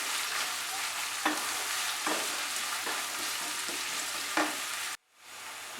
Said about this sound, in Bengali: পেঁয়াজটা ভাজতে সময় লাগবে কিছুক্ষণ, কিন্তু আঁচটাকে আমরা কমিয়েই রান্নাটা করছি।